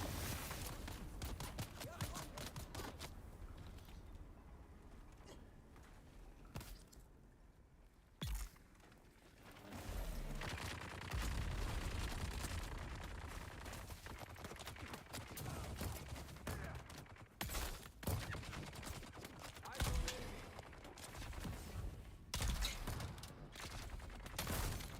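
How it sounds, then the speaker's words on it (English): A sentry gun in the Dune: Awakening video game fires at enemies in scattered, fairly quiet bursts of sharp cracks, mixed with mechanical clanks and ratcheting clicks. "the sentry gun kills most enemies before I even do"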